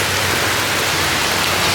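Heavy rain falling in Tulum, Mexico, a dense, loud, continuous hiss of drops with no talk over it.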